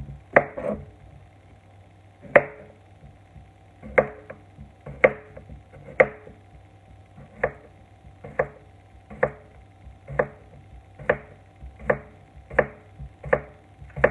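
A knife slices farm-fresh cucumbers steadily on a cutting board, a dozen or so crisp, evenly spaced cuts close by, with a faint low hum underneath.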